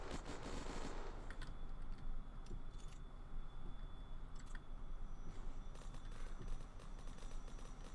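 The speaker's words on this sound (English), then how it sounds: "Where's all that shooting coming from?" Distant gunfire in the survival game Unturned crackles as scattered shots and bursts over a steady background rumble, fairly faint and continuous throughout.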